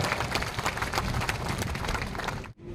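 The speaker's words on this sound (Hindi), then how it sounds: "जोरदार ताली से स्वागत करा।" A crowd at a chief minister's political rally in Shankargarh claps, a dense, steady wash of applause that holds evenly and then cuts off abruptly near the end.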